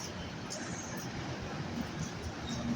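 A crowded MRT train runs on the rails with a low, steady rumble heard from inside the car, with faint squeals and muffled passenger chatter.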